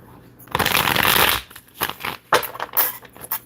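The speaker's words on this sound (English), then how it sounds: "Pull the cards." A deck of tarot cards is shuffled up close, with a long riffling burst followed by several shorter sliding and tapping shuffles.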